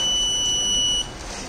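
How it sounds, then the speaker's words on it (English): A steady high-pitched electronic buzzer alarm on an electric vehicle's battery monitoring system, triggered by high temperature, sounds continuously, then cuts off abruptly partway through, leaving quiet background noise. "you can get the buzzer alarm"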